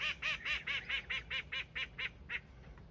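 Goose honking in a repeated series of about ten loud, evenly spaced nasal calls close by on a hilltop farm, fading slightly toward the end.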